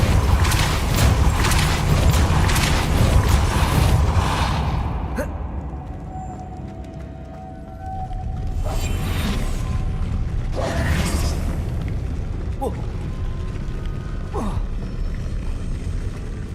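A Depulso spell cast in Hogwarts Legacy, heard as a game effect with mechanical creaks, whooshes and booms over a steady ambient bed, with a few sharp pops later on.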